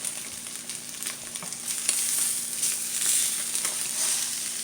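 Eggs frying over easy in a pan make a steady, close sizzle with crackling pops that swell slightly midway and hold, with no one talking.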